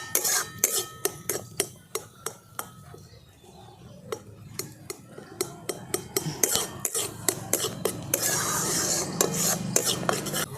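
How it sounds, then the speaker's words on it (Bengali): Mango pulp stirred in a pan with a metal spoon, giving close, repeated scraping and clinking strokes in a steady rhythm that grow denser and louder toward the end, with no talking. "আমের পাল্পটা দিয়ে নাড়াচাড়া করে নিচ্ছি।"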